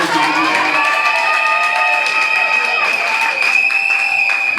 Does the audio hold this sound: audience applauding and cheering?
yes